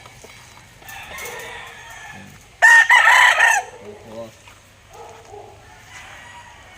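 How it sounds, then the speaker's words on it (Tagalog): A Peacomb rooster from a hen-hatched flock crows once, loud and close, a strained cock-a-doodle lasting about a second amid quiet clucking and brief low voices. "Poging manok yun."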